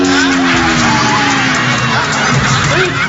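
A lively crowd at a bar or restaurant cheers and whoops for a visiting guest, a loud continuous roar of voices with shouts rising above it.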